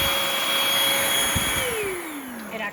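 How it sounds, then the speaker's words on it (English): A lightweight Bissell Featherweight stick vacuum cleaner runs over fuzz on a carpet, giving a steady close whine whose pitch drops near the end as the motor winds down. "It actually vacuums really well."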